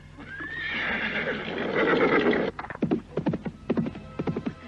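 Horses in a radio drama: a long, loud whinny rising and falling, followed by a steady run of hooves clip-clopping close by, with no speech over it.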